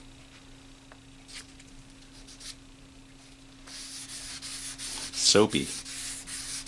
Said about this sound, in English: This 600 grit is just to get the, it's just for leveling.